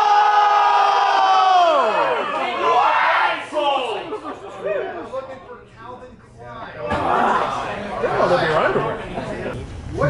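A crowd at the Collider Collision fan event shouting and cheering in rising, excited waves, loud and close, mixed with mixed voices calling out and chatter.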